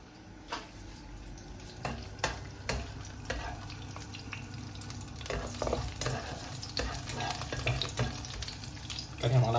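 Garlic sizzles and crackles in a hot wok, with steady frying noise broken by scraping stirs and clatters of a spatula.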